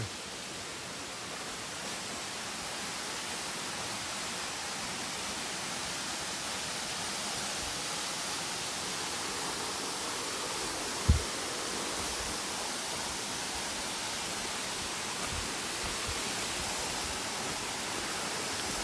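A waterfall on a trail to Pha Lae and Tat Mok falls pours in a constant broadband rush, steady and moderately loud, with a single faint knock partway through and no speech.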